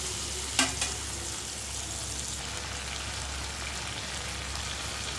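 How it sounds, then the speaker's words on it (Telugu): Moringa drumstick pieces with turmeric cook in a pan for a brinjal and drumstick curry, giving a steady, soft sizzle and crackle throughout, with a brief metallic clink near the start. "మునక్కాళ్ళు వేసుకుందామండి. కాస్త మగ్గనివ్వాలి."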